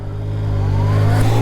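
Yamaha MT-09 2018 motorcycle with its engine running while being ridden, a steady close, loud drone that builds slightly in pitch as it pulls, with no talking.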